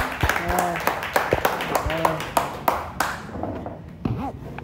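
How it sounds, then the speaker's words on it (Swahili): Scattered hand claps from a small group at a birthday surprise, irregular and moderately close, mixed in with people talking and fading toward the end. "Makofi tafadhali, makofi manze"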